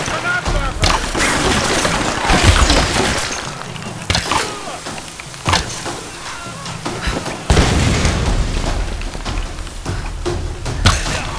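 Grenades go off in a Tomb Raider game: several heavy booms and thuds at irregular intervals, loud and near, over a dense background of game noise, with a voice talking through it.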